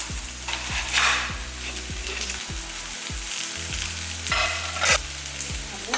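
Small onions sautéing in a pan while chicken gravy is made, giving a steady, close, bright sizzle. A regular low thumping beat runs underneath throughout.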